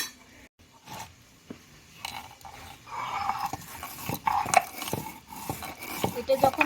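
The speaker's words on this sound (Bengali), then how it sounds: "জিরেটা একটু বেটে নেবো।" Roasted cumin is ground on a shil-nora grinding stone in a village kitchen, giving uneven scraping and knocking strokes with gritty rasps, close and moderately loud, with a few sharper clicks as the stone moves.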